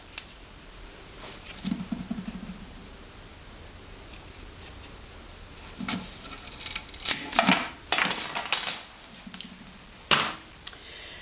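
A cardboard drum tube is cut at a marked line, producing scattered scraping, snipping and crunching bursts that come in short irregular clusters, close by with quiet pauses in between.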